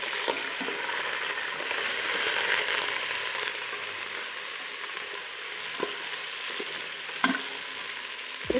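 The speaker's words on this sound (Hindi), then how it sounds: "इसको फ्राई करेंगे गोश्त को, ताकि जो गोश्त की स्मेल होती है ना वो ख़त्म हो जाए।" Mutton frying with browned onions gives a steady broad sizzle that swells and settles, with a few sharp spoon knocks and scrapes toward the end, no one talking.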